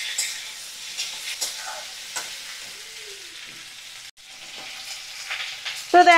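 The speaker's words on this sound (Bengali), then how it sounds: "সুন্দর করে আমি ওলকপিগুলো মিডিয়াম ফ্লেমে রেখে ভাজা করে নেব" Chunks of kohlrabi frying over medium heat in a pan: a soft, fairly quiet sizzle with scattered light scraping and clinks, ending in a brief louder clatter, with no speech.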